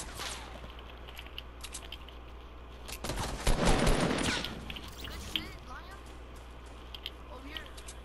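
Fortnite gunfire at Tilted Towers, with quick crackling bursts of shots that swell into a dense, loud volley midway. A voice talks over the shooting, and a steady hum runs underneath.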